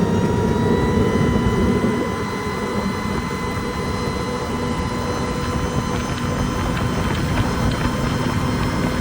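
Mercury 500R outboard on a 2024 Bennington 25Q pontoon boat accelerating on the water, a loud steady engine roar with rushing water and wind noise throughout, no speech.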